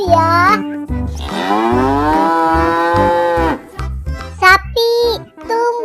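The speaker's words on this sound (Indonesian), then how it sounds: "Sapi aku terlepas." A cow moos loudly and close, one long drawn-out call followed by shorter lowing bursts, with a voice mixed in.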